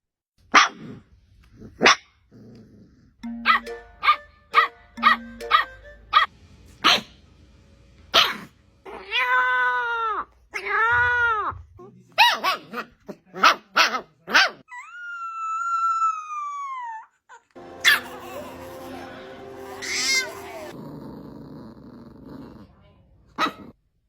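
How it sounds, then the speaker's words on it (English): Puppies yap and bark in short, repeated bursts, with whines, growls and a few drawn-out howls mixed in, close by and fairly loud. "And here come the puppies."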